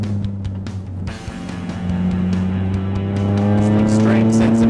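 A Lotus Exige S 240 sports car drives with a steady engine drone that climbs in pitch as it accelerates, heard from the cabin, with someone talking over it.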